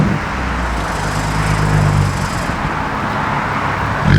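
An Audi S4 engine rumbles loudly and steadily at idle, its exhaust with the muffler removed giving a raw, unmuffled drone with a low throb that swells briefly.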